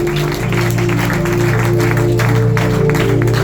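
A church congregation applauds and cheers in acclaim of the Lord, a steady wash of clapping and crowd noise with a sustained musical hum underneath, filling the whole stretch at close, loud level.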